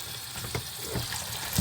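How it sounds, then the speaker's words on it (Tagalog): Cold tap water runs over cooked spaghetti as it is rinsed, a steady splashing hiss with a few soft knocks and a louder splash at the end. "kailangan hugasan niyo siya ng malamig na tubig"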